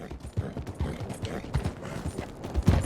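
Horse hooves clip-clop steadily in Red Dead Redemption II, a rhythmic run of muffled thuds over a busy rumbling backdrop, fairly close and continuous.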